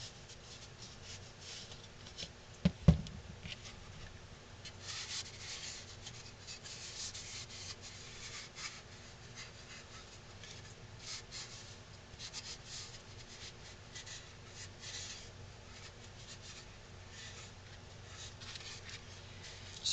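Sanding dust wiped off a carved wooden ventriloquist dummy figure, a soft continuous rubbing and brushing close by, with one sharp knock early on.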